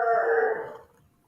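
A pet dog howls in the morning, one drawn-out, moderately loud howl that fades away within about a second.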